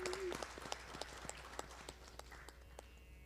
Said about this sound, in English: Let's encourage her with a big round of applause.